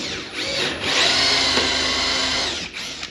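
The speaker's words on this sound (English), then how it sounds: "take this hole saw and basically spend the next 20 minutes or so drilling these out" A power drill with a hole saw grinds steadily through material up close, loud and continuous, with brief dips as the bit catches and releases.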